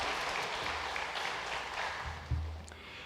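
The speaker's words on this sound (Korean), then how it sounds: "다시 큰 박수로 환영하겠습니다." A church congregation applauds to welcome a newcomer during a Sunday worship service, with soft, even clapping heard faintly through a room, and a low thump near the end.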